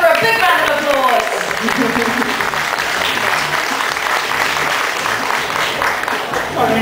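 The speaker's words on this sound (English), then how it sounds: "Give her a big round of applause" An audience breaks into a big round of applause welcoming a guest onstage at a cooking presentation, loud dense clapping throughout with a voice briefly audible at the start.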